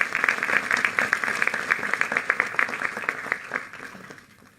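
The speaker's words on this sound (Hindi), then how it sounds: "एक बार हम हमारे फ्रंट लाइन वर्कर्स के लिए भी ताली बजाएं।" At an intellectual meeting in Chandigarh, an audience applauds for front line workers, a brisk round of clapping that thins and fades away toward the end.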